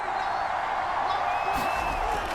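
A stadium crowd in the Madden NFL 24 video game, Vikings versus Bears, keeps up a steady roar and cheer through a third-down play, with a few whistles and a louder burst near the end.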